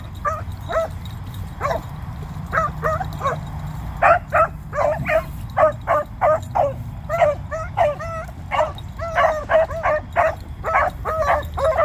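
Quick strings of yips and high barks from a Dandy/Woodrow hound pup just out of a starting pen, coming in clustered bursts, moderately faint over a steady low background rumble.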